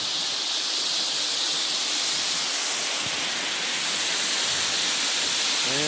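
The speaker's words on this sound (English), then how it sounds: "We're going to be standing right above the 77-foot waterfall." The 77-foot waterfall at Dripping Springs, Natural Falls State Park roars as a steady, dense wash of falling water heard from the overlook above, continuous and unbroken throughout.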